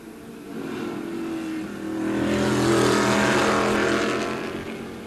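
A race car at a 1980 SCCA road race sweeps through a turn, its engine note rising as it draws near and then fading as it moves off, carried over a steady background roar.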